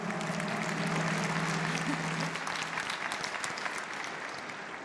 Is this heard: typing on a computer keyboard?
no